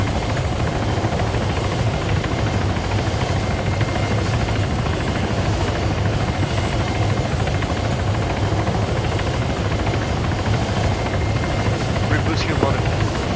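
Military transport helicopters run close by as Marines load, a loud, constant rotor and engine roar that fills the whole stretch with no letup, with faint radio voices under the din.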